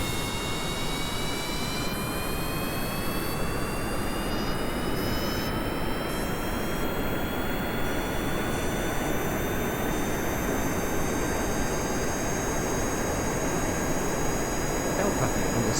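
Rocket engine at full throttle during launch in the video game Kerbal Space Program, a constant loud roaring rumble with a faint rising whine, sustained and steady throughout with no voices.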